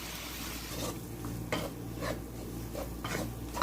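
Butter and plain flour frying gently in a pan over a very low flame, a soft steady sizzle with a few light stirring scrapes at intervals, close and alone.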